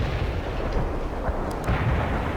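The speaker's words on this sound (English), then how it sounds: "Those are the biggest guns in the fleet you have at your disposal, Parker. 9 16-inch cannons." In the video game World in Conflict, a battleship's 16-inch cannons fire artillery, producing heavy rumbling booms and blasts that roll through the clip with a few sharper cracks.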